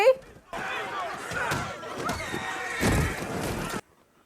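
A horse neighs amid a dramatic scene from the TV western 1883, the whinny rising loud and close over a dense bed of commotion and voices before cutting off.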